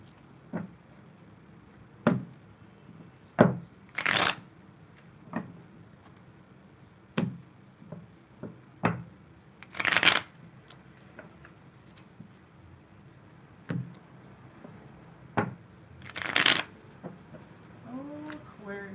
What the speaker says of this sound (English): Few shuffles and I'll get right into the reading.